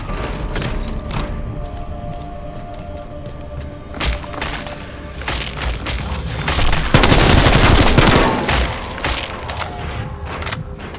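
Submachine gun fire in Call of Duty Black Ops Cold War zombies mode, loud rapid bursts of automatic shots with a heavier sustained volley midway, close and dense, over game ambience.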